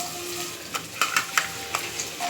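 Onions fry in hot oil with cinnamon and cloves for a gongura prawn curry, a steady sizzle broken by several sharp spoon scrapes against the pan.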